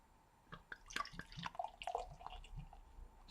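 Dark ale from a 500 ml bottle, White Rabbit Dark Ale at 4.9% ABV, is poured straight into a glass. Close liquid glugging and splashing builds over a few seconds, fairly quiet, with no talking.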